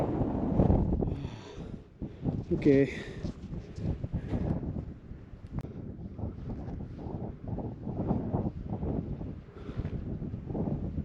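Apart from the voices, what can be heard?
strong wind on mountain ridge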